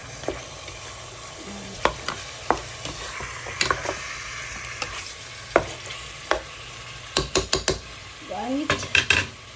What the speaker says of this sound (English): So at least the chicken, it's fry, not too much fry, it's just like a little bit fry.